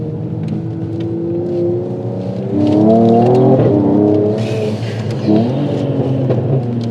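A Mercedes-AMG E53 coupe with a stage 2 tune revs loudly up and down close by, with a few sharp exhaust pops and crackles breaking through as the engine note drops.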